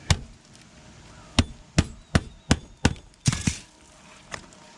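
An AJC mag roofing hatchet hammers roof metal on a tarped, leaking roof: about nine sharp, close strikes in an uneven rhythm, some doubled, ringing out over faint background noise.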